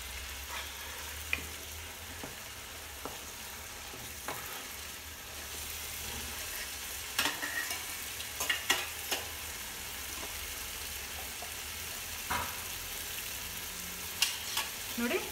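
Biryani masala paste frying in oil in a pan, a steady close sizzle with occasional stirring scrapes and pops throughout, no talking.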